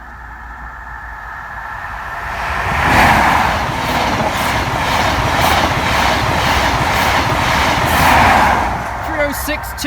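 HST high speed train passing the Grove Road level crossing, a loud continuous rushing roar with rhythmic clatter swelling as it goes by close, heard alone without talk.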